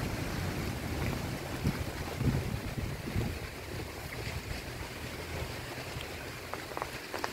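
Strong wind buffets the microphone with a constant rushing roar, mixed with a steady hiss like falling rain; no voices.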